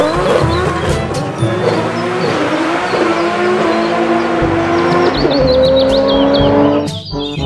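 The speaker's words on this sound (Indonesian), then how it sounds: "Yang ini ada mobil balap." A toy race car plays its electronic engine sound, a loud, continuous warbling whine with revving tones and chirpy effects that runs for several seconds and then cuts off abruptly.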